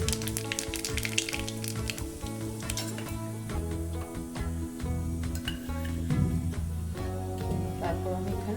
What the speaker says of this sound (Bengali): তো আমার তেলটা গরম হয়ে গিয়েছে। আমি এখানে কালো জিরা কটা দিয়ে দিচ্ছি।